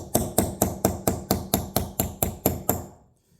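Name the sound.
hammer and punch driving a pin on a PTO shaft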